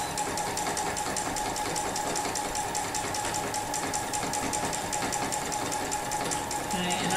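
Sewing machine doing free-motion quilting on a double grid, a steady fast needle chatter running close and continuous throughout, with no talk over it.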